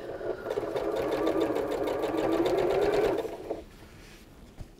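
A sewing machine stitches quilt binding in one steady, close, whirring run of about three seconds. It then stops, leaving faint room noise.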